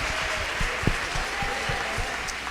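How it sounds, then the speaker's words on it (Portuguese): A church congregation applauds together, a dense steady clatter of many hands clapping close by at moderate loudness, continuing without pause. "Vamos aplaudir ao Senhor."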